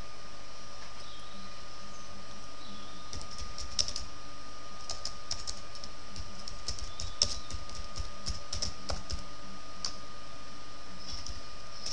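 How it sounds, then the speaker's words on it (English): Steady clatter of typing on a computer keyboard in quick irregular bursts, fairly close, over a faint background hum, with no voices. "My typing is terrible today."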